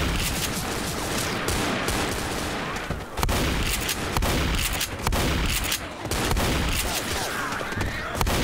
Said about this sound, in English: I'm just shooting shotgun